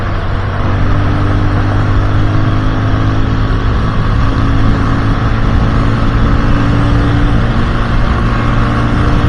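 Steady, loud vehicle engine drone with road and wind noise while driving on a road in Saudi Arabia during food delivery work, a continuous hum gaining speed without a clear rev change.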